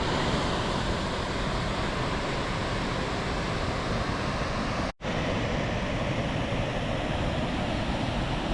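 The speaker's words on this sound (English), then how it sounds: "that is St. Mary's Waterfall, Marysville Waterfall, one of them." Marysville Waterfall, also called St. Mary's Waterfall, gives a steady, loud, close broadband roar of rushing water, broken only by a split-second dropout midway.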